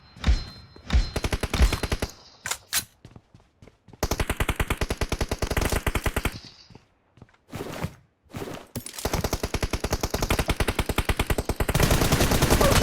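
Rapid automatic gunfire from a 2v2 shooter video game, long loud bursts of dense repeated shots broken by short pauses, thuds and footsteps, with a final sustained burst.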